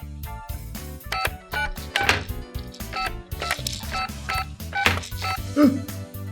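A telephone's push-button tones beep in a quick irregular series, loud and close, with a short vocal sound near the end.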